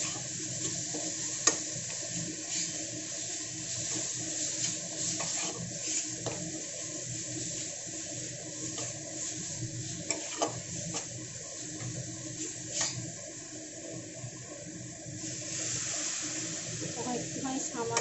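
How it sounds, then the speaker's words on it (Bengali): Spice masala with coriander powder, cumin powder and salt is sautéed in a pan for a chicken fat curry, giving a quiet, steady sizzle with scattered scraping stirs and occasional clinks of the utensil. "এখন একটুখানি সামান্য জল দিয়ে মশলাটাকে খুব সুন্দর করে কষিয়ে নেব।"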